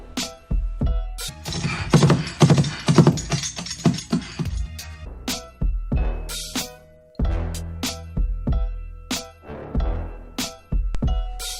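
Foley imitation of a horse running, made by hand in a studio: a long series of sharp knocking hits in uneven galloping clusters, with a dense flurry early on, close and clear with no voices.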